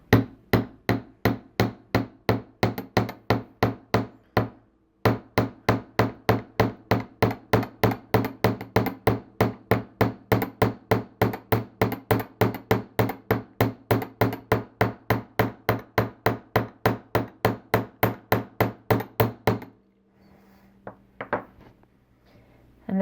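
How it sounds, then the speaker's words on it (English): A dome face hammer strikes wire for a heart-shaped jewelry pin, giving a long run of sharp, evenly spaced metallic taps close up, briefly pausing and then continuing at a steady brisk rhythm before stopping. "So we made some tool marks here with this dome face hammer."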